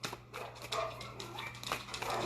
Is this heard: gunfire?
no